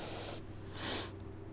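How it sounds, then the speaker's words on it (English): Spray paint hisses from a can onto a painting in two short bursts, a sustained spray then a briefer one after a gap, close and fairly loud. "So when I spray the blue, it'll pop a little bit quicker."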